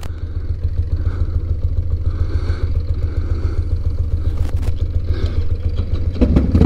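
A Harley-Davidson motorcycle engine idles close by with a steady, lumpy low putter and faint mechanical clatter, alone and fairly loud.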